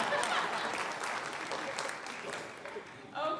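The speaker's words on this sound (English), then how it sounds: "Thank you for clapping for my coin toss." An audience claps after a coin toss at a debate event, a few seconds of moderate, fairly distant applause that fades and briefly picks up again at the end.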